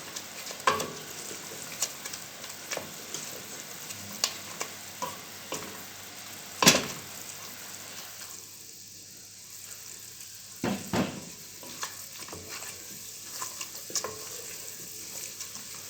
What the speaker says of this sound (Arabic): ونبدا كده نقلب فيها مع الزيت بتاعنا. نفضل كده نقلب فيها.